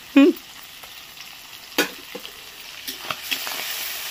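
Prawns sizzling in a hot pan with ginger, stirred with a utensil: a loud clatter at the start, then soft steady frying under scattered scrapes and taps, no talk.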